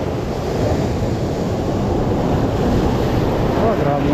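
Strong sea waves surge around a fishing boat out on the water, a loud continuous roaring wash mixed with heavy wind buffeting on the microphone, close and unbroken.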